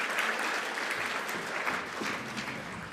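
An audience at a conference on the Women, Peace and Security agenda gives a dense, continuous round of applause that stays steady across the whole stretch.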